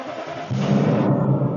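A 2005 BMW X5 engine starts by keyless push button: after a brief quiet moment the starter catches and the engine fires into a close, steady idle.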